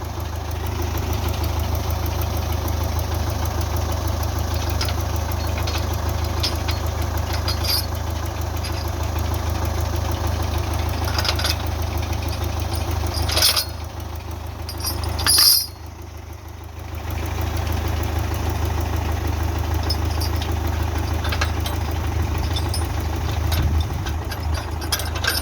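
A Belarus 510 tractor engine idles in a steady low diesel chug with a faint knocking rhythm, close and continuous for the full stretch, with a brief muffled dip midway and no talk.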